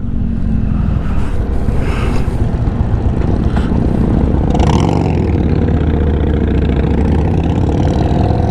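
An Indian Chief Bobber motorcycle engine runs steadily at close range, a loud continuous low rumble that holds throughout with no talk.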